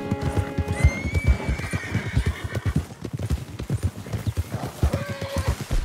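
Horse in the Red Dead Redemption 2 video game trotting with a rhythmic, close clip-clop of hooves, broken by a clear whinny near the start and another softer neigh toward the end.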